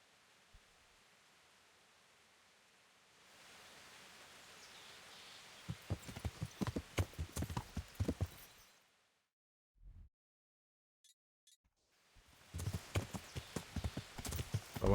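Horse hooves gallop in the video game Kingdom Come Deliverance, a rapid run of loud close clip-clop beats over a soft rustling bed, breaking off into brief silence before the galloping resumes.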